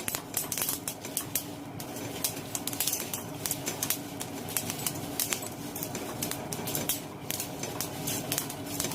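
Flaxseeds and tamarind stirred in a hot pan with the stove switched off give a continuous dry rattling scrape with frequent sharp clicks of a spoon against the pan, steady and close for the whole stretch, with no voices.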